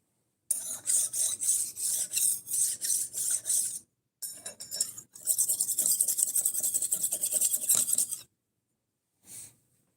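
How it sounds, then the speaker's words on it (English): A knife blade being sharpened against a brick, heard as a run of rhythmic rasping strokes, then a steadier stretch of continuous grinding, close and fairly loud, with short pauses between passes. "I'm sharpening a knife with a brick."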